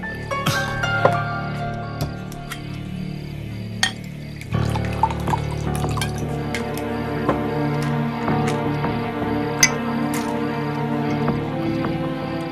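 Liquid pours steadily into a glass, a continuous splashing trickle with a few sharp clinks of glass, close by and with no talking.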